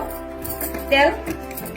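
A metal wok set down on a kitchen surface for cooking a Bangla potato and fish chorchori gives a single clattering clink amid light handling, close and fairly loud over a quiet background.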